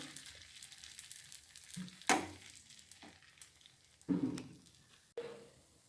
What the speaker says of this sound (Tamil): சுத்திலும் அப்படியே எண்ணெய் விட்டுக்கரலாம் நல்லா பொரியட்டும்